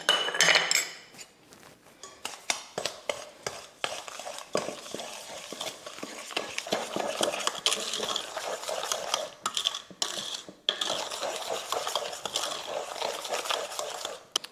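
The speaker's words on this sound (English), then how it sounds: "Cornstarch. I'm gonna mix it super well." Cornstarch is whisked in a bowl for a princess cake, with steady, close scraping and clinking of a utensil against the bowl in rapid, uneven strokes, continuing without talk.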